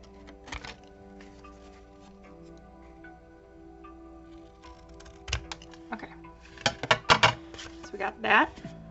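Scissors cutting a small piece of paper ephemera out of a book page: a quiet stretch, then a cluster of crisp snipping and rustling clicks near the end, close and fairly loud.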